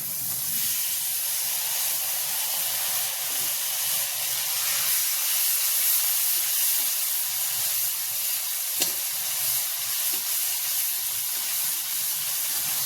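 Chopped tomatoes hitting browned onions in a hot pan, giving a loud, steady sizzle and hiss that runs unbroken for the whole stretch, with a few faint stirring clicks and no voices.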